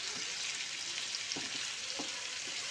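Onion paste and ginger-garlic paste being stirred in a hot pan: a continuous loud sizzle of frying with a few soft spatula scrapes beneath it, close up, with no talk.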